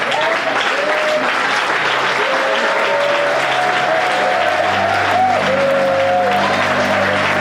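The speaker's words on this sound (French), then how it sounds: "je veux que tu te lèves et que tu acclames Jésus-Christ de Nazareth" A church congregation rises and applauds to acclaim Jesus Christ, a dense, loud sustained clapping filling the room, with sung or called-out tones rising above it.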